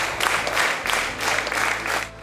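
An audience applauds after a stage adaptation of a novel at the Transmissziók theatre festival in Debrecen; thick, sustained clapping swells and dips in waves throughout, with no speech.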